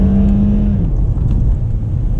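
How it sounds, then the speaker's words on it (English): Hard launch in a 2009 Honda Accord Euro L with a 5-speed automatic and traction control off: a loud engine roar with a falling pitch as the wheels spin, heard continuously and close. "So able to spin the wheels on the launch."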